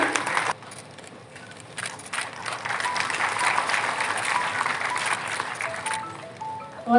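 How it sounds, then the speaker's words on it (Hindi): Audience clapping at a university international seminar attended by a state governor, starting briefly, dipping, then swelling into sustained dense applause before tapering, with faint voices near the end. "जोरदार तालियां।"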